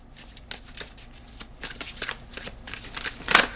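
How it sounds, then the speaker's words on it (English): Tarot cards being shuffled by hand, a run of soft riffling flutters and light slaps with a sharper, louder burst of riffling near the end. "So anyways, we're going to pull cards out."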